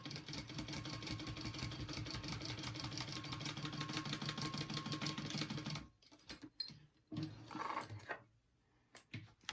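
A sewing machine stitches down the middle of a clutch wallet in a fast, steady, close run for about six seconds, then stops, leaving scattered handling noises.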